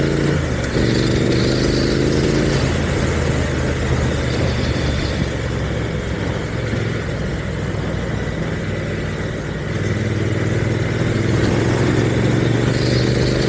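A motorcycle engine grumbles at low revs while riding, a continuous close rumble with rising and falling harmonic tones under steady wind noise.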